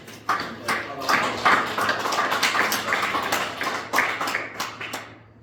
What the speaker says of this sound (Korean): 우리 다 같이 박수로